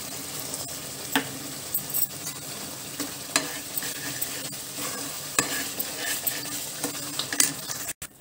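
Tamarind rice masala simmering in oil and ghee sizzles steadily while a spoon stirs and scrapes the pan, producing intermittent metallic clinks and taps throughout.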